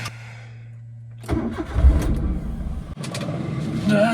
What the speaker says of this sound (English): That's the sound of a petrol engine starting after actually 2 days.